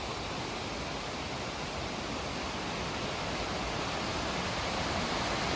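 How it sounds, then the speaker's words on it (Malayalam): A dense, continuous roar of water rushing strongly from a dam fills the clip, steady and unbroken like a strong flow pouring nearby. "നല്ല ശക്തമായ രീതിയിൽ വെള്ളം വരുന്നുണ്ട് കേട്ടോ"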